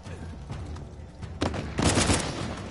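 Bursts of burst-rifle gunfire in a video game, loud and close, with a sharp cluster of shots around the middle and a heavier rapid burst following, over a steady low background rumble.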